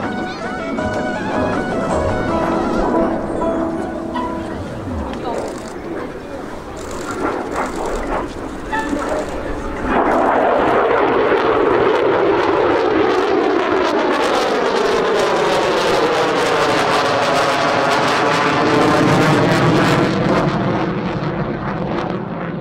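Mitsubishi F-2 fighter jet turning at about 850 km/h during an air show display at Hamamatsu, a loud roaring engine that swells and sweeps with a Doppler shift as it passes, with an announcer speaking over it.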